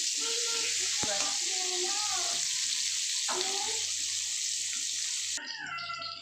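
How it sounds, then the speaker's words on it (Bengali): Potatoes seasoned with salt and turmeric fry in a pan with a loud, continuous hiss close by, while a voice talks over it in the background throughout. "আলুগুলোকে ভেজে নিই"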